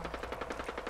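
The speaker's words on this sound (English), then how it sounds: "Who's still shooting out there, man?" Automatic gunfire in the Fallout 4 video game: a fast, steady string of about eight sharp shots in one second, fairly loud over a low background rumble, with no talking.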